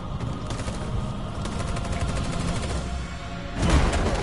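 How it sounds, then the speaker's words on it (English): Gunfire in the video game Detroit: Become Human, rapid machine-gun-style shots rattling continuously over a noisy background, loud and close, swelling into a heavier burst near the end. "Bullets going everywhere."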